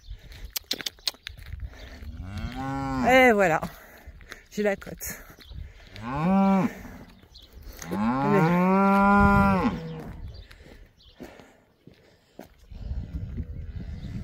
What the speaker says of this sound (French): on m'observe, les petites vaches.